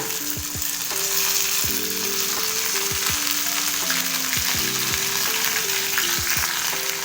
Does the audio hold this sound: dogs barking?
no